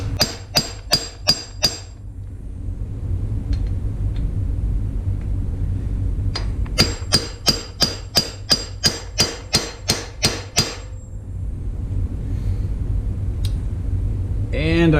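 Hammer striking a bearing tool to drive a steering bearing race into a Honda VF500F motorcycle frame, sharp metallic blows in a quick run of five, a pause, then a longer run of about ten, over a steady low rumble.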